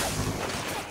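Dense, continuous bursts of gunfire and impacts in inFamous 2 fill the moment, loud and busy with no clear gaps between shots.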